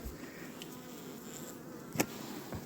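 Honey bees hum steadily at the entrance of a strong colony's hive in a sheltered winter-preparation apiary, a faint low drone with a brief louder buzz as one flies close to the microphone.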